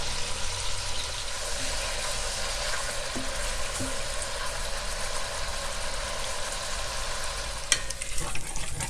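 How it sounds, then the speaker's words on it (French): Beef pieces for carbonnade flamande sear in a hot pan, a loud dense continuous sizzle with occasional small pops and a brief clatter near the end. "Donc on les marque bien en cuisson sur chaque face."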